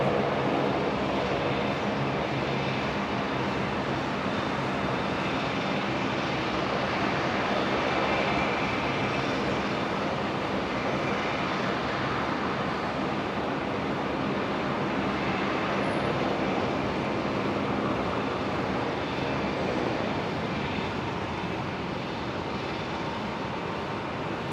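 Hawker business jet touching down on runway 01 right at Brisbane after a flight from Denpasar, a continuous broadband jet rush at fairly loud level that holds steady and eases slightly near the end, no voices.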